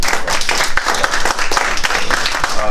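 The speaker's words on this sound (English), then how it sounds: "so he deserves a nice round of applause." Audience applause at a Brooklyn Democratic political club meeting: a loud, dense round of clapping from a roomful of people, steady and close throughout.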